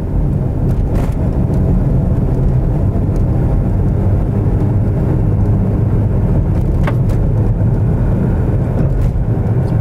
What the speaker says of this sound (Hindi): ये शां शां शां जो शोर है ये टायर्स की वजह से है।